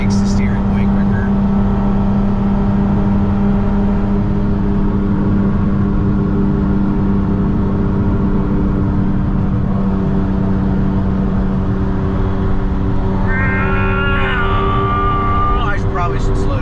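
A dirt-track race car with quick angle-kit steering rounds a sharp 40-mile-an-hour turn, its engine droning loud and steady throughout, with someone talking over it near the end.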